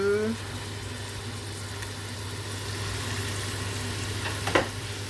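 Meats for a three-meat couscous royal brown in a pan with a continuous even sizzle under a low hum, a brief voice at the start and a sharp utensil clink near the end.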